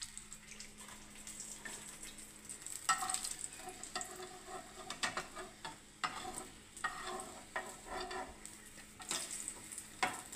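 Eggplant slices frying in a pan with a soft, steady sizzle that rises and falls, broken by light scraping and handling noises close by.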